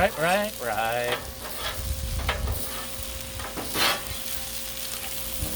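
Chicken fried rice with chopped onion sizzles loudly on a Blackstone griddle while a spatula scrapes and stirs it, close and continuous.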